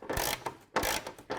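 A hand ratchet loosens the 17mm front suspension bolts on a Ford Falcon BF, giving two close bursts of rapid clicking pawl ratchet strokes separated by a short pause.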